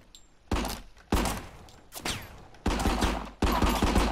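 Gunfire in the video game RICO comes in five heavy, loud bursts. Each opens with a sharp crack and a booming tail, with short gaps between the volleys.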